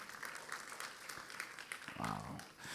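Church congregation applauding during a Sunday worship service, a steady wash of clapping throughout with a brief louder swell near the end.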